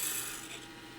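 Spindle gouge cutting a wooden gavel spindle on a lathe, a steady close-up rasping scrape of the tool's leading edge on spinning wood that fades slightly as the cut continues.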